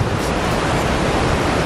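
Water gushing from a natural spring at a blue hole in Jamaica, a dense, loud, steady rush of broadband noise close to the listener, unbroken for the short moment and with no voices.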